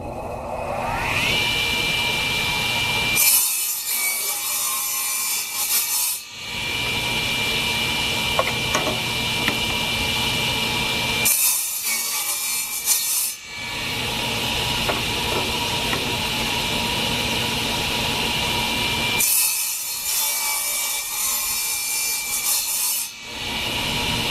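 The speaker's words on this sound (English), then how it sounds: "table saw sled is great for making repetitive cuts" Table saw with a sled cutting small 3-inch wood pieces, a loud continuous blade whine with three short bursts of cutting noise spaced evenly, close up and with no talk.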